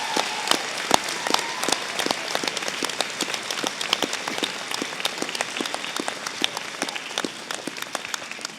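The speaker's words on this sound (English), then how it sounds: "I would like you to round of applause your friends and family" Audience applause at a graduation ceremony, a sustained patter of many hands clapping at moderate distance, even and continuous without voices.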